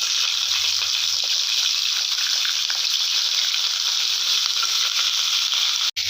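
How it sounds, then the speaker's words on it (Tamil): Crab dropped into hot cold-pressed oil in a pan for crab gravy, giving a loud, steady, even sizzle that fills the whole stretch with no voices. "நெக்ஸ்ட்டு நண்டை அப்படியே போட்டுக்கிறோம்."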